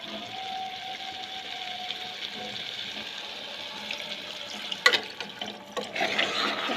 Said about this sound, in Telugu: వాటర్ వేద్దాం.